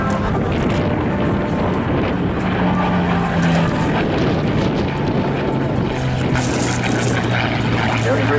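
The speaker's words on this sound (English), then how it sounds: "Classic British single-seat fighter used by the Royal Air Force and many other allied countries before, during and after the war." Supermarine Spitfire Mk9, a British single-seat piston fighter, flying at the Eastbourne airshow, its propeller engine droning steadily and loudly throughout with a slowly shifting pitch and wind buffeting on the microphone.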